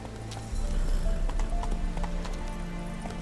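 Roach the horse from The Witcher 3 gallops at a steady clip-clop, hooves thudding loud and close in a continuous run after a quiet start, with game music faintly underneath.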